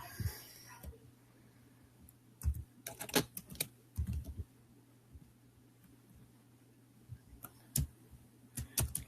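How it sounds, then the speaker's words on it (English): Rapid, irregular clacking of a computer keyboard being typed on fast, coming in close bursts of keystrokes over a steady low hum, with no voices. "Keyboard is going wild."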